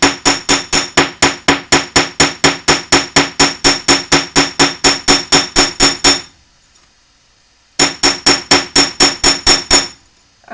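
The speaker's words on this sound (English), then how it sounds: "we're going to take out our chasing hammer, and you're going to chase about 1/4 inch of the end" A chasing hammer strikes the end of a wire in a rapid, steady run of sharp metallic blows, loud and close, pausing about a second before resuming briefly.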